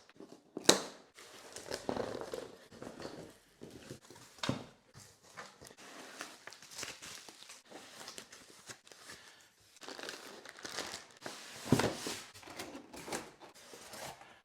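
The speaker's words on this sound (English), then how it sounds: "now's come to the time to get this box open" The cardboard box of a 65-inch Samsung S95F OLED TV is opened with scissors, irregular cutting snaps, scrapes and crinkling rustles at close range, quiet between sharper bursts.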